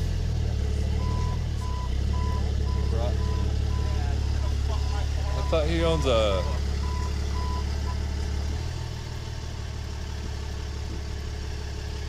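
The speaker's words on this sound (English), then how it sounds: "Still driving tow trucks?" A tow truck hauls a car away, a reversing alarm beeping in a steady series of evenly spaced tones over a low idling diesel engine while people argue nearby.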